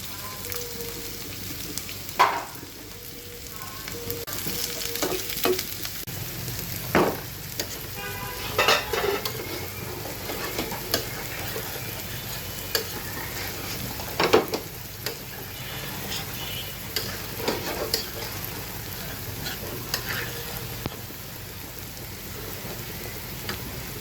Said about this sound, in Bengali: এটা আমি একটু বেরেস্তার মতো ভেজে নেব